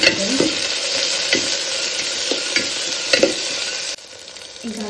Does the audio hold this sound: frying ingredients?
yes